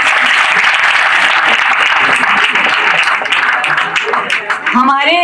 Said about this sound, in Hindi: Please तालियों से उनका भव्य स्वागत करें।